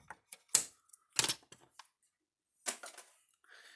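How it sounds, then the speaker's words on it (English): Wire cutters snip off excess wire at an electric fence repair, a few sharp, close metallic clicks and snaps separated by quiet gaps, with faint handling rustle. "we'll snip off the extra"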